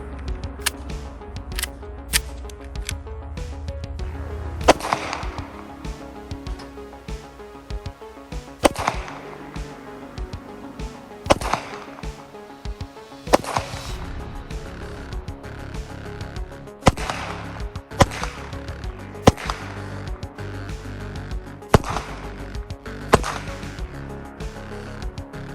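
A Smith & Wesson SD9VE pistol firing Federal Syntech rounds, several sharp, loud gunshots spaced a few seconds apart, each with a quick echoing decay and some handling noise between shots.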